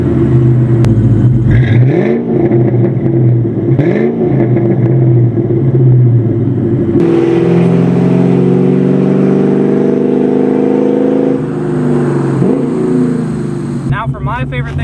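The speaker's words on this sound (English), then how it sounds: "this car sounds amazing. All it has is the cold air intake and aftermarket exhaust" A Ford Edge with a cold air intake and aftermarket exhaust revs loudly and close up, its pitch climbing and falling in repeated pulls before settling into a sustained high drone.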